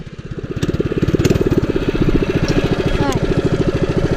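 A mini bike with a 212 engine roars in a stand-up burnout on leaves, a loud, close, rapidly pulsing engine note that climbs and holds at high revs throughout.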